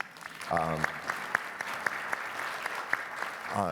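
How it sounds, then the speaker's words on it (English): An audience at a talk on Indigenous peoples in Canada and the future of work gives a modest round of applause. Distinct individual claps sound over a soft crowd wash, and a voice speaks briefly near the start and again at the end. "If we could get a round of applause, please."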